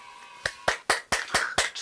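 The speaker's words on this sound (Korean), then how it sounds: "박수 한번 주세요" Hands clapping, about seven sharp claps in quick, fairly even succession, close and alone in a quiet room.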